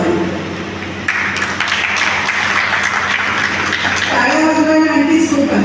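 An audience at a poetry book launch ceremony breaks into applause, a dense, steady clatter of many hands that sets in after a moment and carries on at an even level to the end.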